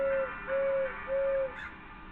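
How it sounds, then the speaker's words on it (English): An owl in the video game Crow Country hoots three times in a steady rhythm, each a clear, sustained low tone, close and fairly loud against a quiet background. "It looks like he hoots 5 times"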